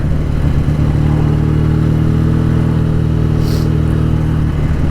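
A BSA Super Rocket motorcycle engine running steadily on a winter ride, with a loud, close, continuous low throb that holds an even pitch throughout and has no talking over it.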